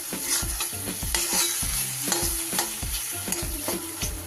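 Spices sizzle in hot oil for a pointed gourd curry, loud and close, with repeated scraping stirs of a spoon against the pan breaking through the steady frying hiss; no one speaks.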